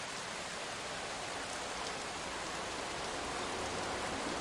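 Heavy storm rain pours in a dense, unbroken hiss, loud and even throughout with no other sounds standing out.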